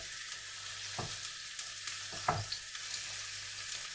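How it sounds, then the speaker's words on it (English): Turkey meatballs simmer under a lid in a covered pan, making a soft continuous hiss and low bubbling with a few sharper pops and clicks. No voices are heard. "Leave it to bubble away, maybe about 20 minutes."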